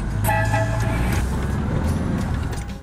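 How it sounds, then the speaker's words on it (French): Car horns honk in busy street traffic in Morón, Cuba, with a loud toot near the start over the rumble of passing engines, then steady traffic noise. "Le partage de la rue se fait à coups de klaxon."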